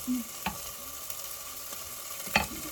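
Italian seasoning stirred into meatball sauce in a pan: a few faint, scattered scraping strokes over a quiet, low sizzle.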